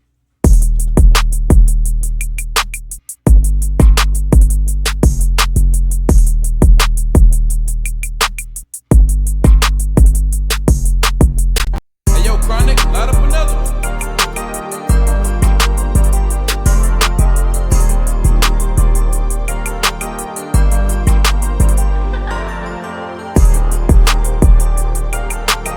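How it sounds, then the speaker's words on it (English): Programmed hip-hop beat in a hard melodic style: punchy kick and deep 808 bass under rapid hi-hats, metallic percussion and clap hits, looping steadily and loud with brief drop-outs, no voices. "All the drums together sound like this."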